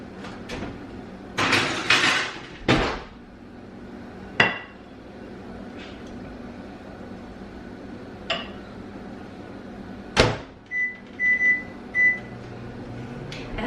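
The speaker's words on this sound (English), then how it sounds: "As the microwave cooks those refried beans" A microwave oven hums steadily while cooking refried beans, with several clinks and knocks of dishes and a cupboard nearby, and a few short beeps near the end.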